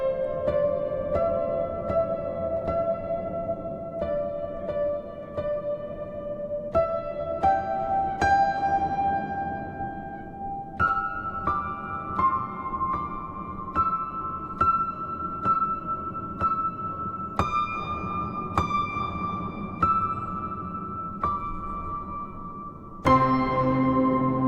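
Pripyat Pianos by STRIX Instruments on its Inside Nuclear Reactor preset, a slow, eerie melody of single piano-like notes ringing over a hazy, droning background, steady and alone.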